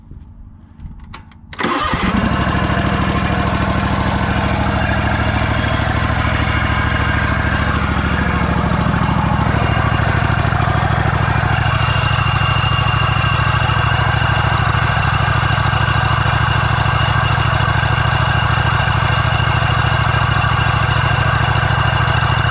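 A Scag V-Ride stand-on mower engine cranks briefly, catches and fires up. It then settles into a loud, steady idle that holds close and continuous for about twenty seconds with no voices.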